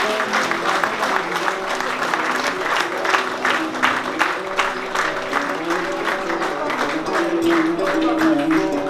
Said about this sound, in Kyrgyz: Панарбек, катуураак кол чаап койгула